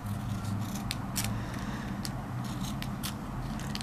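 Scissors cutting excess double-sided tape, a run of quick, crisp snips close by against a steady low background hum, no talking.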